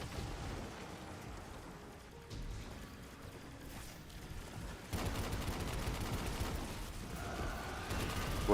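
Gunfire from the video game Destiny 2 during a PVE SMG farming session, dense rapid bursts layered with game effects and background music, loud and continuous, growing more intense toward the end.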